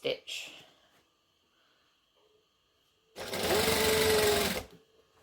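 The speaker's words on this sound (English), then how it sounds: "And then I'm just going to sew it down." After a brief voice and near silence, a sewing machine runs in one loud, steady rapid burst of about a second and a half, stitching dress fabric close up.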